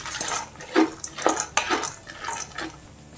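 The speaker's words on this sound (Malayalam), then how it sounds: "ഈ രണ്ടും ഒരുമിച്ചിട്ട് ഫ്രൈ ചെയ്തിട്ടെടുക്കാം." Chickpeas and poha being fried together for avil mixture in a pan, heard as a run of clattering scrapes and clinks of a utensil against the pan, with several sharper stirring knocks over a hissy background.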